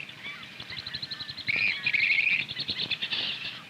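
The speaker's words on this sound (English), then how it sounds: "This bird's call, termed advertising, serves to attract the attention of an unmated bird." Western grebes give their advertising call at a lake, a series of shrill, rising whistled notes repeated in quick succession, fairly close and clear, swelling louder midway with other grebes calling faintly behind.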